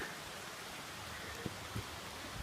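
Light rain falling on a White Mountains trail, a soft, even hiss of drops across the whole stretch with a few faint taps, steady and unbroken with no voices.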